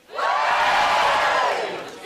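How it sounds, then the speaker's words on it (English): A stand-up comedy audience lets out a loud cheer and whoops, swelling quickly and holding for about two seconds before fading. "Give me a cheer if you're single."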